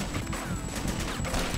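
Gunfire in the action video game Not A Hero, a dense continuous burst of game shots and crashes filling the whole moment at steady loudness.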